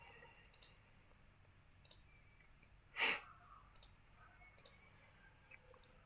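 A single sharp computer mouse click near the middle of a quiet stretch, with a few fainter ticks scattered around it and no voices.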